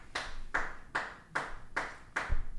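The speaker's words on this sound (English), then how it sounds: "what in the hell are you over there clapping about?" Clapping from a person in a sports talk show studio, heard as six evenly spaced, fairly sharp claps about half a second apart, fairly close and with no talk over them.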